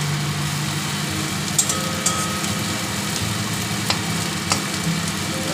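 Potato and cauliflower fry in a pan with a steady, dense sizzle close by, while a few faint clicks of stirring tap through now and then under a low background hum.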